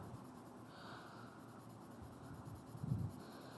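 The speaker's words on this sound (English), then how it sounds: "So I'm going to shade as dark as I possibly can." A pencil shades dark on paper with heavy pressure, giving a soft, continuous scratchy rasp close to the listener, faint overall, with a slightly stronger stroke near the end.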